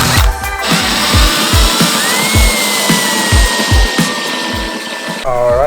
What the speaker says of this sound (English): we've been drilling these spot welds out